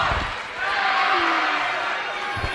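A rowdy crowd claps and roars in a high school basketball gym during a sub-state game between Mulvane and Trinity Academy, a dense, steady wash of noise that fills the room.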